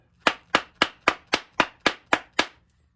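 Nine sharp, evenly spaced hammer blows strike a golf club to drive the head off a broken hickory wooden shaft, each a crisp, loud knock with a quick decay and no talk between them.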